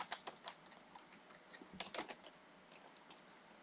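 A computer keyboard gives a short burst of soft, close key taps in an uneven typing rhythm, heard faint and alone against quiet room noise.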